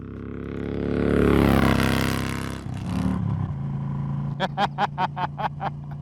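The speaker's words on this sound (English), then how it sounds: "This is a 2016 Harley Davidson Street Glide Special." A 2016 Harley Davidson Street Glide Special motorcycle roars closer, its engine note swelling to a loud peak and then settling into a steady rumble, while someone talks over it toward the end.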